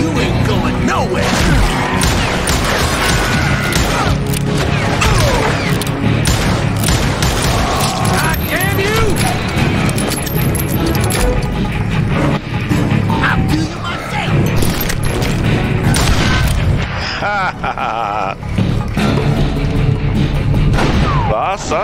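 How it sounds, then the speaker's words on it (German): Gunfire from the Western shooter game Call of Juarez, a loud, dense run of shots and booming impacts that barely lets up, with music and voices mixed in throughout. "Nein, irgendwer schießt da immer noch."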